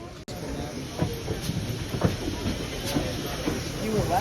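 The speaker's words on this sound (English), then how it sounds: "choo-choo train" A train rolls past during a national park trip, its steady rumble and hiss broken by regular clickety-clack beats from the wheels.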